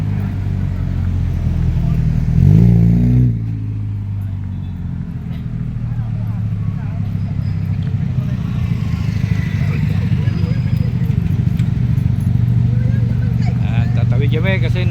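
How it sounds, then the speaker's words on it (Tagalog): Busy road traffic of cars and motorcycles passing along a street, heard as a steady loud rumble of engines with a stronger surge near the start. A person talks over it throughout. "Sobrang dami sasakyan,"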